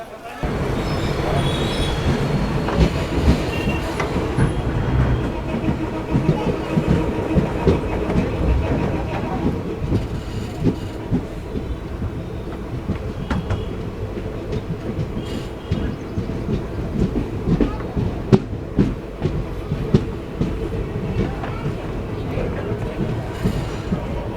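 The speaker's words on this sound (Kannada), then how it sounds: "ನಮ್ಮ ಟ್ರೈನ್ ಇವಾಗ ತಲುಪಿದೆ ಹರಿಹರ್ ರೈಲ್ವೆ ಸ್ಟೇಷನ್ಗೆ" The Vishwamanava Express train rumbles and clatters as it rolls into Harihar railway station, wheels clacking and squealing over a steady loud roar, with voices faintly in the background.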